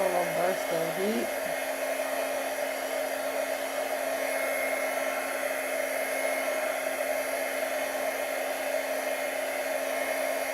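A heat blower dries paint on hand-painted ornaments, its steady whining roar running loud and unbroken throughout, with no talk.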